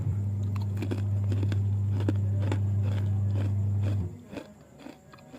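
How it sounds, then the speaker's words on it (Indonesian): Super-crispy fried onion chips are bitten, with repeated close, dry crunches over a loud, steady low hum that cuts out near the end, leaving the last crackles more exposed. "Dan ini dia keripik bawang super renyahnya siap untuk dinikmati"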